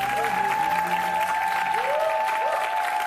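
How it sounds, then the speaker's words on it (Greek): Studio audience at a Greek television variety show applauding, dense steady clapping sustained throughout at a loud, even level, with a faint tonal hum underneath. "Θέλω ένα πολύ δυνατό χειροκρότημα για τον Αποστόλη τον Μητρόπουλο."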